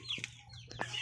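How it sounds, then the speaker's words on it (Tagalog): A stressed Asil hen from a breeder's trio clucks in a few short, close bursts, with a steady low hum behind her. "andito naman po yung ating isang hen natin"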